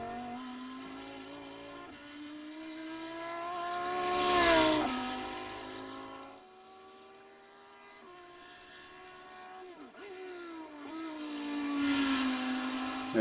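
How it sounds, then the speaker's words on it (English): A race car engine revs during a Nürburgring 24 Hours test, its pitch climbing and falling as the driver changes down over a bump, with the revs spiking loud, fading back, then rising again, heard from inside the car. "They're just revving the engine a little, changing down on the bump, and it spikes the revs a little bit."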